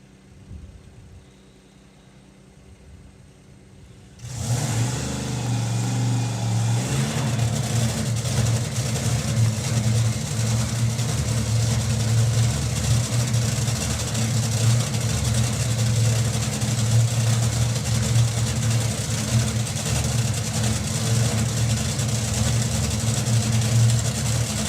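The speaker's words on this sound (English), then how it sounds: "Well, lovely strong burnout." A drag racing car engine at Nostalgia Nationals roars loud and sustained during a burnout, kicking in abruptly after a few seconds of quiet and holding a steady, heavy revving drone.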